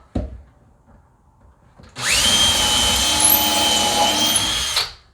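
A power drill whirs loudly for about three seconds at steady speed, driving square-head screws while an upper cabinet is hung on a wall, preceded by a brief knock and quiet handling sounds.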